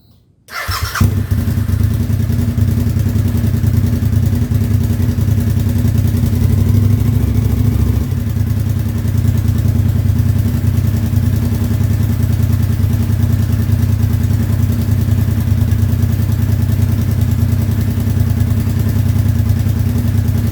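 A motorcycle idles in first gear with its drive chain spinning slowly while the chain is lubricated, a close, loud, steady engine rumble that runs unbroken from a start just after the clip opens.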